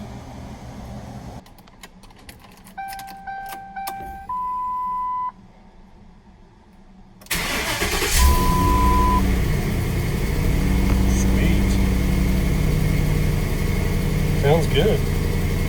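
Electronic beeps and chimes sound first, then a 2010 Ford Crown Victoria Police Interceptor's engine and exhaust start up and settle into a steady, close idle rumble, with a brief spoken remark heard over it.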